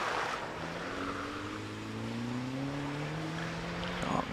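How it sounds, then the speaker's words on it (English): A 2-litre BMW Mini Cooper S races up the Prescott club hill climb. Its engine note climbs steadily in pitch under throttle, heard from a moderate distance over steady background noise, with no one speaking. "we see George Tower in the Mini Cooper, 2-litre version this time of the Mini Cooper S, the BMW Mini Cooper S"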